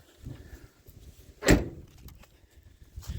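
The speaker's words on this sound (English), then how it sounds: "Doors closed nice." A single solid thump of a Checker Marathon classic car door shutting, close by, against a quiet background.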